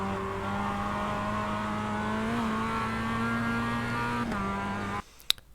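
Mazda MX-5 race car in iRacing at Circuit de Ledenon, engine note climbing steadily under hard acceleration, a brief gear-change dip around midway, then the sound cuts off abruptly with a couple of faint clicks.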